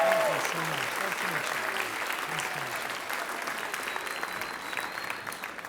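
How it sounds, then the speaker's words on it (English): Comedy show audience applauding a volunteer during a stand-up special, a steady wash of clapping across the room that slowly thins toward the end, with a voice briefly over it. "Give him a big round of applause,"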